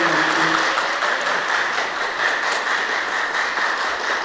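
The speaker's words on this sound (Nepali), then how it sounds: "ताली बजाएर सम्मान" An audience applauds a police officer at a ceremony, a steady wash of many hands clapping together, moderately loud and even from start to finish.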